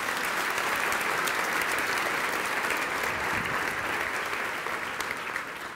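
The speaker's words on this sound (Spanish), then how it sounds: "Y dele un aplauso a ese Dios precioso." A church congregation applauds with dense, sustained clapping that holds steady and loud before easing slightly toward the end.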